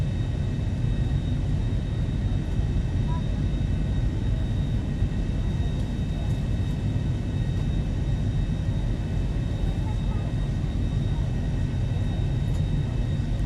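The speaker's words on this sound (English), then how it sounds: "Just doing a flight from Birmingham to Faro in the Boeing 737-800" Boeing 737-800 jet engines in the X-Plane 11 flight simulator, a steady low rumble and roar with a faint high whine, unchanging and continuous throughout.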